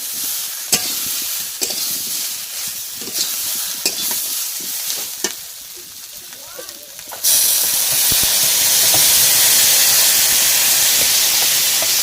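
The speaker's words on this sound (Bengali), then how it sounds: "এবার জল ঢেলে দিচ্ছি" Water poured into a pan of cooked-down curry, with light stirring and scraping up front, then a sudden loud, steady steaming sizzle that fills the rest of the clip.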